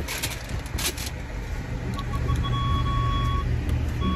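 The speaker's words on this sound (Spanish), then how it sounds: "Pinche carro de todo chilla" A car's electronic warning chime while parking, thin steady beeps running alongside a low engine idle and traffic rumble, with a few sharp clicks early on.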